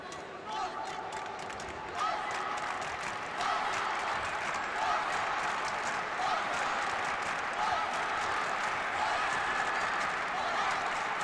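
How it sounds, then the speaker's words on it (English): A home crowd in Cairo applauding at a Karate1 Premier League karate final, steady sustained clapping and crowd noise that swells after the first couple of seconds, with voices speaking over it. "great support from the home crowd here in Cairo for the Egyptian fighter, Ghana Ali"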